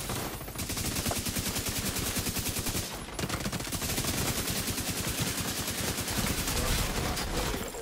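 Sustained rapid gunfire in The Division during a manhunt match, a steady loud rattle of shots lasting several seconds with a brief break midway and no talking.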